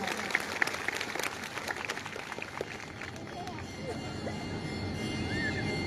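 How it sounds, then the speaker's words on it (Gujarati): A crowd claps at a Kshatriya Karni Sena Raksha Bandhan event, a burst of fairly loud applause at the start that fades into a busy, noisy room with some faint whistles and chatter. "એવા અમારા લખનભાઈ દરબાર માટે તાળીઓ થઈ જાય"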